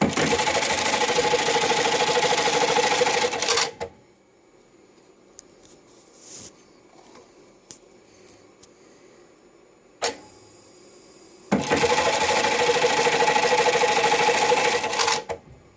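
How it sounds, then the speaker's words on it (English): A JACK JK-T1900BLX electronic tacker with a regular tacking clamp runs two loud, rapid bursts of stitching, each a few seconds long, separated by quiet clicks and small mechanical taps. "this is the machine set up with just a regular tacking clamp. We want to do a few tacks."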